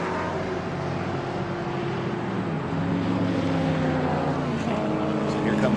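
Vintage race cars from SVRA Groups 6, 8 and 12 approach on the track at Virginia International Raceway, their engine drone building steadily louder beneath continuous commentator talk.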